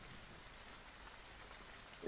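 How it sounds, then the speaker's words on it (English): Rain falls at a bus stop, a soft, even patter and hiss of drops on surfaces that continues steadily and faintly throughout, with no one talking. "Standing at the bus stop in the rain"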